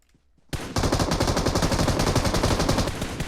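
Automatic gunfire in the PUBG Mobile video game: after a short quiet lead-in, loud rapid bursts start abruptly and keep rattling densely to the end.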